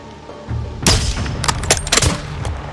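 A sniper rifle shot from the Modern Warfare 2 campaign lands as a sharp crack with a booming tail, followed by further loud blasts and rumbling echoes in close succession.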